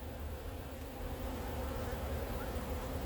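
Honey bees swarm around a beekeeper at an open hive with no smoke, making a dense, continuous, close-up buzzing drone throughout with no speech.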